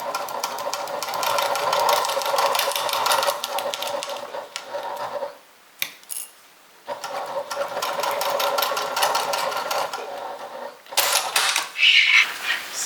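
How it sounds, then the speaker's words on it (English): Sewing machine stitching a half-inch seam on a fabric makeup bag, running in steady bursts of rapid whirring with short pauses between passes, close and alone. "We're going to stitch this using a 1/2 inch seam allowance."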